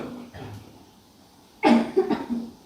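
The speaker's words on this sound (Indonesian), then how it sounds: "Batuk semua." A couple of coughs come first, then after a pause a louder cluster of coughs and throat clearing from several people nearby.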